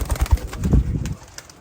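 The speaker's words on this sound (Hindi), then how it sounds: "ये कबूतर जो उड़े थे मैंने आपको दिखाए हैं।" Pigeons at a competitive pigeon-flying loft, with a few low, soft coos and rustling in the first second before the sound fades to quiet.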